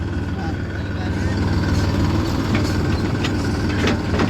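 A tractor engine runs steadily close by, a continuous low, throbbing drone with a deep rumble that holds even throughout, with faint background noise on top.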